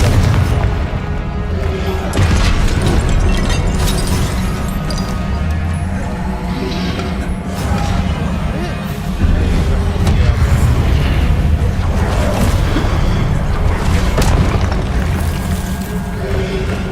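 Confringo fire-blast spells from Hogwarts Legacy explode without pause in loud, booming blasts, one rolling into the next to make a dense, continuous roar of fiery detonations.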